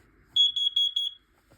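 A smoke alarm under test gives four quick, shrill electronic beeps in a row, each ringing briefly in a quiet room.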